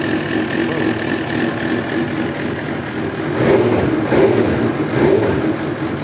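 A Suzuki GSXR 1000 motorcycle engine with a starting problem catches and idles unevenly, its note lurching and surging for a few seconds, loud and close.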